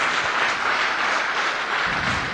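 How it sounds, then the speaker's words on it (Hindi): A large seminar audience breaks into loud, steady applause, a dense wash of many hands clapping that holds evenly throughout with no talk over it. "जोरदार तालियां इनके लिए"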